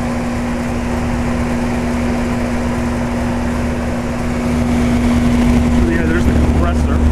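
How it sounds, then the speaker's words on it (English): A circa-1975 York Champion IV "Tombstone" central air conditioner with dual fans runs its compressor, a loud steady hum with a strong tonal drone under constant fan noise; a brief faint voice appears near the end. "there's the compressor"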